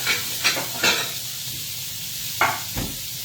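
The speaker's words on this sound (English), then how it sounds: "Let's get our eggs cracked real quick here." Eggs cracked into a hot frying pan while making a flap steak fajita breakfast, with a few short sharp cracks and taps, then sizzling bursts against a quiet kitchen background, no talk.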